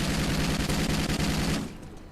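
Rapid automatic gunfire from a new DLC weapon in Call of Duty Ghosts on Xbox One, a loud dense burst of shots lasting about a second and a half before cutting off.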